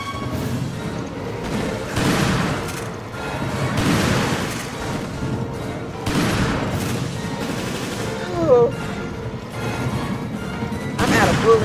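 Gunfire bursts in Resident Evil Revelations come in repeated clusters of shots, loud and close, mixed with game effects and a brief chirping tone near the end.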